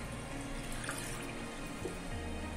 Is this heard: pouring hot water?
yes